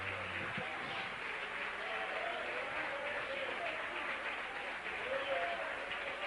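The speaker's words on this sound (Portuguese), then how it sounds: "Receba essa aplauso, Jesus, que é para ti essa noite" A church congregation applauds for Jesus during a worship service, a steady, dense wash of clapping that holds evenly throughout, with a voice faintly audible beneath it.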